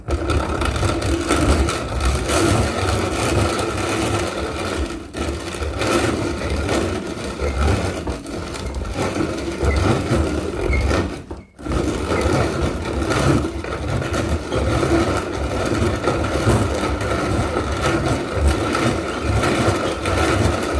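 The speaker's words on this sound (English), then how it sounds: "it's crispy, so I'm going to grind that up." An electric grinder runs continuously on dried, crispy garden harvest, a steady buzzing motor drone close by with one brief cutout partway through and no talking.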